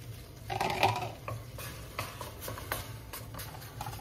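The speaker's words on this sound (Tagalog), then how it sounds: "Pero igigisa po natin ang miso." Miso sautéing in a pan: a utensil scrapes and clinks against the metal as it stirs, giving quiet, irregular taps over a faint sizzle, close and fairly soft, with no talking.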